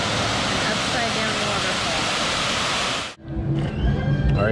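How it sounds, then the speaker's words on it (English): A waterfall at Disney World, a loud, dense roar of rushing water close by for about three seconds before it cuts off abruptly to quieter surroundings. "waterfall"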